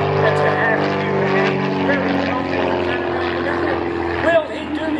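A Pitts stunt plane's engine drones steadily through aerobatic maneuvers, loud and continuous, with a slight surge near the end as someone talks over it.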